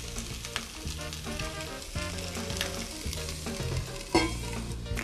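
Cabbage for vegan Hawaiian kalua cabbage frying in a pan, a steady close sizzle broken by rhythmic scraping stirs and one sharper clatter near the end, with no talking.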